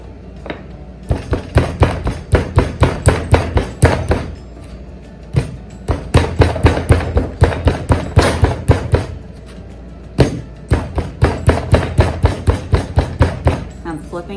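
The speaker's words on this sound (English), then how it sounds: "I'm going to start by pounding it out into more of a pancake shape" Dough or a soft mass being pounded flat on a work surface into a pancake shape: a steady run of loud, close thuds in rapid bursts, with short pauses between the sets.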